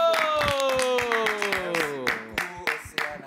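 A studio audience claps for a trophy presentation, with quick, regular claps over a loud descending tonal jingle, close and bright throughout.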